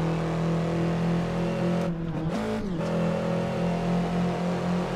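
Race car engine in the Assetto Corsa driving game, a continuous droning hum that briefly dips and shifts pitch midway as the throttle changes, then settles back to a steady tone.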